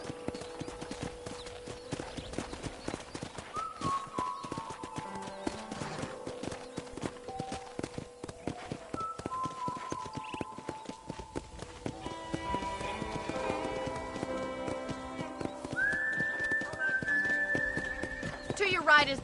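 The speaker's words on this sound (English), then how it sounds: "let's see if you can still ride a horse." Horse hooves clip-clopping in Red Dead Redemption, a steady trotting rhythm under game music and spoken dialogue, with a brief whinny along the way.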